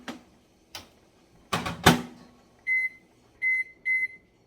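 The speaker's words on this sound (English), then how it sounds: "So I'm going to pop this in the microwave for 3 more minutes" A kitchen microwave oven is handled: a few clunks and a door slam, then three clear electronic beeps in a row as it is set for more cooking time.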